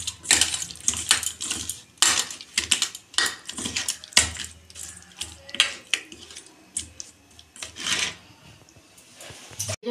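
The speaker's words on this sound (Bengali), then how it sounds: "এই যে কড়া বসিয়েছি, তেল দিচ্ছি, কড়া গরম হয়ে গেছে" A kadai is set on the stove and oil poured in while cooking pabda fish, with a run of metallic clanks, knocks and scrapes from the pan and utensils, loud and close, in uneven bursts.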